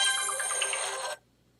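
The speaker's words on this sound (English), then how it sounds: "Apparently, my ringer's not muted." An incoming call sets off a phone ringtone, a bright, busy electronic jingle heard close for about a second before cutting off abruptly into near silence.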